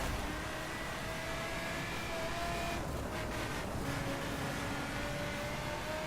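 Car engine in the racing video game The Crew on a Los Angeles lap, a steady droning engine note with shifting tonal lines, moderately quiet and continuous with no talking.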